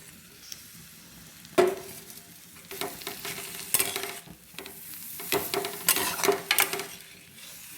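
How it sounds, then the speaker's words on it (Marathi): Crushed cluster bean thecha stirred in a hot pan with turmeric, sizzling and frying steadily while a spoon scrapes and clinks against the pan in irregular strokes, close and alone. "आता यात मी हा गावारीचा ठेचा केलेला घालून घेते"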